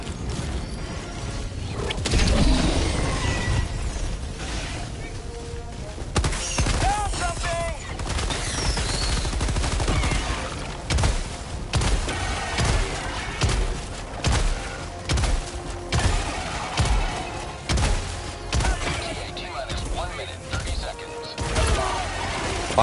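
Heavy, rapid bursts of video game gunfire and rail cannon blasts crash repeatedly over a long stretch, loud and chaotic, with occasional voices underneath.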